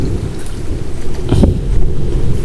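Rain falling outdoors near a large river, a steady close hiss and patter with a brief louder burst partway through.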